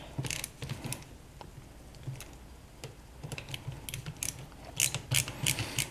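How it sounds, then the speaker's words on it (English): A screwdriver tightens the neutral terminal screws on a 120 volt receptacle, giving faint, irregular clicks and ratcheting taps in short bursts that grow denser toward the end. "We're going to tighten down our neutral terminals."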